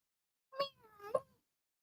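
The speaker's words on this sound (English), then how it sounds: "my cat was right there" A cat gives two close, clear meows in quick succession, the second rising and ending sharply, set against near silence.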